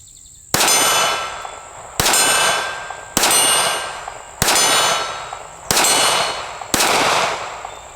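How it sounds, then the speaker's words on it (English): Six sharp shots from a Smith & Wesson Bodyguard 380 micro pistol ring out about a second apart, each a loud crack followed by a bright metallic ring from steel targets. "Well, I missed on the last shot, but you can see it's shootable."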